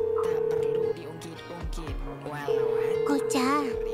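A steady electronic ringback tone sounds in two long stretches, with a voice talking over and between them amid background music.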